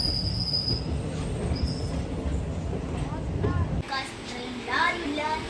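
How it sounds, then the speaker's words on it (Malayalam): A moving train heard from inside the compartment, with a steady low rumble and squealing wheel tones, while people talk over it. "ട്രെയിൻ പോയോണ്ടിരിക്കുന്നത്"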